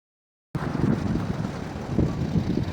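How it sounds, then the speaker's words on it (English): Strong storm wind roars steadily against the microphone in a winter coastal parking spot near a large sand dune, a dense, low rumbling buffet that starts suddenly and stays loud with no talking. "it was way too windy and too dangerous to be staying here"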